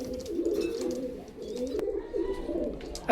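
A Pakistani Royal Teddy pigeon coos in soft, repeated rolling phrases close by, with faint background noise and a sudden louder sound at the very end.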